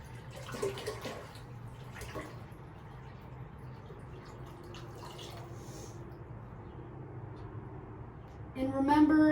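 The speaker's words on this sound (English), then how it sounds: "just pouring all your spring water into the jug" Spring water splashes and trickles steadily from a jug into a fish tank, with a low background hum and some clatter near the end.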